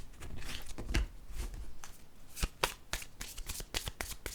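Tarot cards being shuffled by hand before a draw, a close, steady run of crisp riffling and slapping card noises with a few sharper snaps, no one talking.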